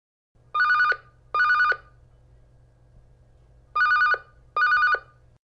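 A telephone rings alone in a quiet boarding-house room, two pairs of bright electronic double rings separated by a long silent pause, close and clear over a faint low hum.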